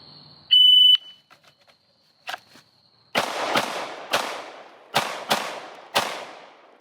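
Pistol drawn from a holster and fired on a shooting course: a timer beep, then six sharp, loud shots in uneven pairs and singles over about four seconds, each with a short decaying echo.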